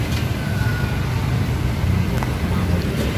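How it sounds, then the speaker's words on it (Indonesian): A Harapan intercity bus pulls into a crowded terminal at peak holiday travel, coming from Surabaya via the toll road; a steady low engine rumble sits under dense crowd and traffic noise throughout, loud and continuous. "Dan tiba bus Harapan."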